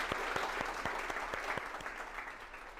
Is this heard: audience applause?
yes